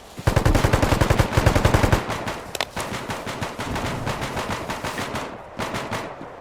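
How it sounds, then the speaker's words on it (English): Close AK rifle fire in the realistic shooter BELLUM: a loud sustained automatic burst followed by further rapid rattling bursts, more distant gunfire trailing behind, no talking. "That AK fire sounds close to you."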